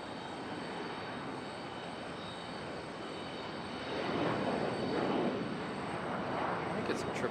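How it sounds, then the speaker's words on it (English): A Boeing 777 departs Charlotte Douglas airport as a steady, distant broadband jet roar that swells louder partway through and holds at that level to the end. "I think it's some 777 departure action"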